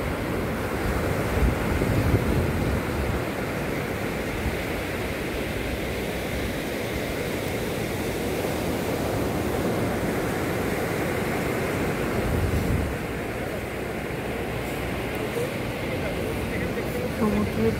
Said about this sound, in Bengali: সমুদ্রের ঢেউয়ের যে আওয়াজ, যে শব্দ, যে গর্জন